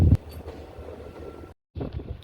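A train climbs a steep, curving stretch of the scenic Kollam–Chenkottai line in Kerala, giving a steady low rumble of rolling wagons with a heavier burst at the start and a brief dropout midway.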